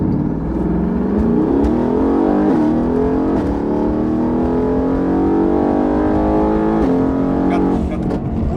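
A car accelerates hard along an empty road, its engine pitch climbing steadily through the revs, loud and close, with a brief shift near the end.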